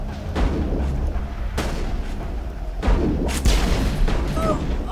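Weapon fire in the video game Mass Effect during a hectic firefight, several loud booming shots and blasts spaced across the moment over a dense rumbling battle background.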